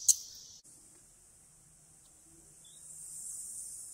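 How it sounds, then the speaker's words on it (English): A cicada swarm outside a garage gives off a faint, continuous high-pitched buzzing drone that holds steady in the distance and thickens slightly toward the end. "I'm in my garage and you can hear The cicada swarms."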